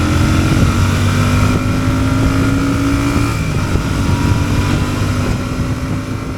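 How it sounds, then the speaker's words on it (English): A Royal Enfield Super Meteor 650 twin-cylinder motorcycle rumbles steadily through its twin exhaust while riding, loud and continuous, with wind buffeting the microphone. "The exhaust grunt is refined and yet has the thump you would associate with the REs"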